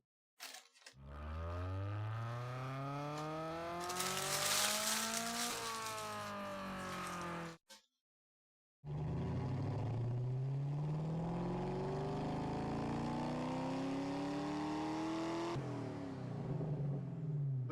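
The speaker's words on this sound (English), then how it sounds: "it's actually possible to listen to the sounds of these cars" A video game car with an RX-8 engine sound revs up through rising gears in two long runs, loud and steady, separated by a short silence, with a synthetic, game-like tone.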